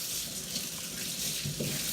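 Ginger root being washed under a running kitchen tap, a steady close hiss of flowing water splashing into a sink with slight shifts as the root is moved through the stream.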